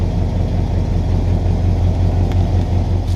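A 1965 Chevy Impala's engine runs at a steady low rumble, close and continuous, with no voices over it.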